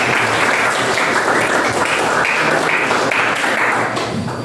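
A classroom applauds a student: dense, continuous clapping from a group of pupils, close and loud, holding steady for a few seconds and easing slightly at the end.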